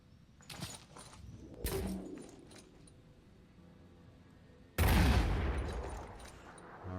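Grenades launched and bursting in the tactical video game Phoenix Point: two sharp launch pops near the start, then a loud explosion with a long rumbling decay, no talk.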